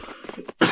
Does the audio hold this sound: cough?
yes